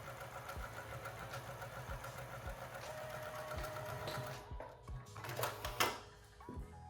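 A sewing machine stitches a pocket bag onto the front of a lounge pant with a steady, rapid mechanical whir and rhythmic thumping up close, then slows into a few uneven bursts and clicks near the end.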